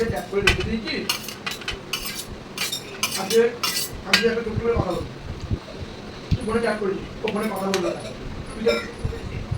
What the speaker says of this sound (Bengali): আর এই আলুগুলো আমি এখন অ্যাড করে দিচ্ছি।